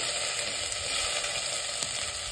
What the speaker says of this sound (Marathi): चला आपण तेल मस्त गरम झालंय, त्यामध्ये थोडी मी मोहरी घालून घेते